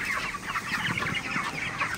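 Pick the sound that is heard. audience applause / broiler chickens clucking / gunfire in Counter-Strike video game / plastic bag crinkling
broiler chickens clucking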